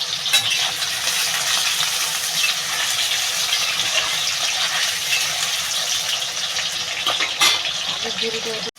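Raw banana pieces fry in a generous amount of oil in a wok, with a dense, loud, continuous sizzle and occasional clinks of a utensil, close by and without talk.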